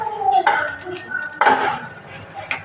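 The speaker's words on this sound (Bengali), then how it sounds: "এবার ঢাকা চাপা দিয়ে দেব, সিদ্ধ হতে থাক।" A metal lid clinks onto a cooking pot of goat meat curry, giving three bright, ringing taps spaced about a second apart, close and fairly loud.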